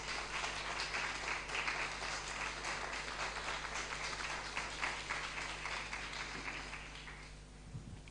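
A church congregation breaks into sustained applause, a dense steady wash of many hands clapping together that fades toward the end.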